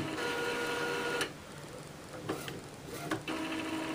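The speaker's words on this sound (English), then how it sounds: "press the ink drop button so the printer can start charging up the printer" An Epson ink tank printer charges its ink system with a steady mechanical whir and hum, broken by a few sharp clicks and ratcheting shifts, heard close up with no talking.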